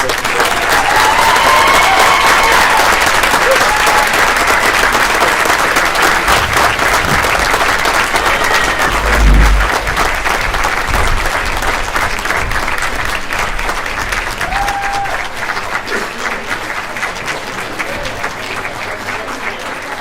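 A school board meeting audience gives the school band a long, dense round of applause. The clapping is loud and continuous at first, then slowly fades.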